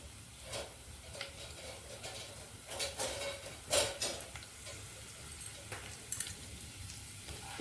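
Two dried red chillies fry in a pan with a soft, continuous sizzle. Occasional light clicks and scrapes from stirring rise above it, and no one speaks.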